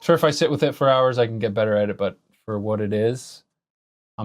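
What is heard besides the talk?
None of the usual background noises is heard.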